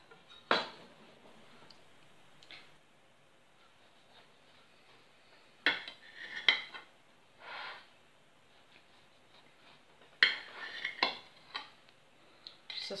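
A knife cuts through a cooled egg-white cocoa loaf cake, with sparse scraping and tapping strokes against a board, separated by quiet pauses and no talking.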